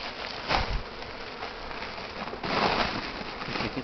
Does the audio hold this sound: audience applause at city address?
no